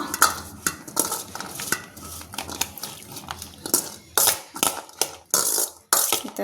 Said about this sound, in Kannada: ದಾಳಿಂಬೆ ಕಾಳುಗಳು, ಹಾಗೆ ಸ್ವಲ್ಪ ಕಾಯಿ ತುರಿ ಇದೆಲ್ಲ ಹಾಕ್ಕೊಂಡು ಮಿಕ್ಸ್ ಮಾಡ್ಕೊಳ್ಳೋಣ